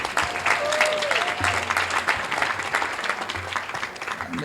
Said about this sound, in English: Another round of applause for Clive Cam Howard.